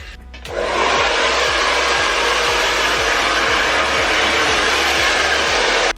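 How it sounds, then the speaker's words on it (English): A hair dryer switches on and roars steadily and loudly for several seconds while blow-drying freshly rinsed hair, with a faint rhythmic ticking under the airflow and no voices. "rinse that out, and then blow dry my hair"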